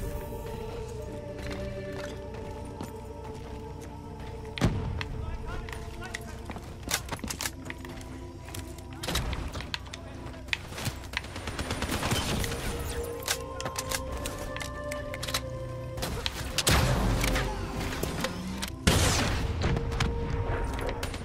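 Repeated gunfire from enemy soldiers in the video game Black Ops 3, bursts and single shots cracking over a dense backdrop of game sound and music, with a few heavier booms throughout.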